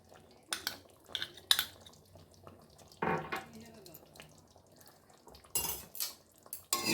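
A metal spoon stirs a potato, pointed gourd and egg curry in a cooking pot as ghee and garam masala are mixed in, giving intermittent clinks and scrapes against the pot, with a few sharper knocks.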